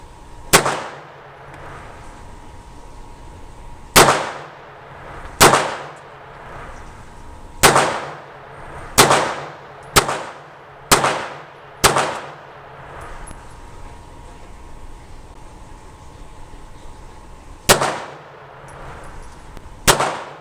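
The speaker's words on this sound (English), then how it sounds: "Today, I'm going to be shooting this Remington 95 grain UMC Target nickel-plated full metal jacket." A Walther PPK/S pistol fires Remington 95 grain UMC nickel-plated full metal jacket rounds: about ten sharp, loud cracks, each with a ringing decay, come in an uneven series, some spaced apart and some in quick pairs, with no talk.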